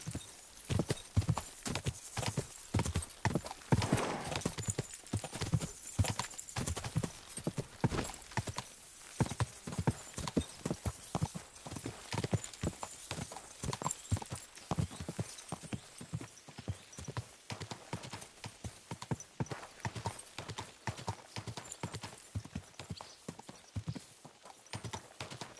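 Horse hooves clip-clop in a steady, rapid rhythm in the medieval RPG Kingdom Come: Deliverance II, loud and close for the whole stretch, with a brief whinny possible early on.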